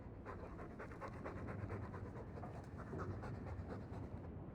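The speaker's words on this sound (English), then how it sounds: "All that noisy dog breath, day in, day out." Rapid, steady dog panting from Dragon Age II, breathy and continuous at close range, running throughout with no speech.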